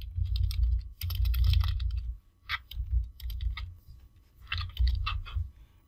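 Typing on a computer keyboard while entering an event title in a calendar, heard as close, rapid bursts of key clicks with short pauses between them and no talk.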